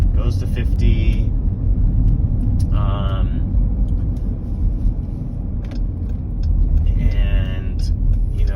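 Car running on E85 fuel after a stage 2 tune, accelerating up to speed with a steady loud engine and road rumble, a brief shift midway, and people talking over it.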